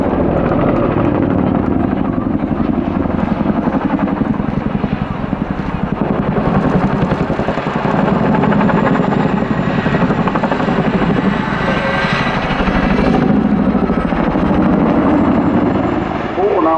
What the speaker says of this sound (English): please welcome the 2013 Chinook display team